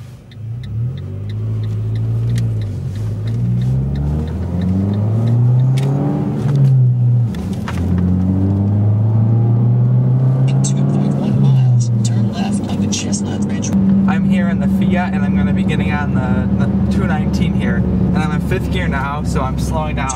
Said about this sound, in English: hit the gas and release the clutch. I'm in a Fiat 500